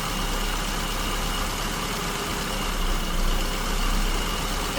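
An engine with an SU carburetor idles steadily, its RPM sagging as the lift pin is raised and the mixture leans out; a continuous close, broadband running drone with a slight swell near the end, no voices.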